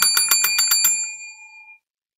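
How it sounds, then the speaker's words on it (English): A small bicycle-style bell is struck rapidly about seven times, bright and close, then the ringing fades out into silence. "We get to ring that bell."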